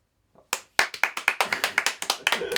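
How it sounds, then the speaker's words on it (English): A small group claps in response after a brief silence, a dozen or so sharp, slightly uneven claps following one another quickly and then tapering off. "just give a fucking round of applause, man"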